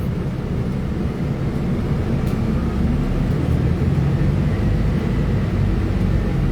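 A shaking, rumbling bus ride: a steady low drone of engine and road noise with rattling vibration, constant and close throughout, with no talk.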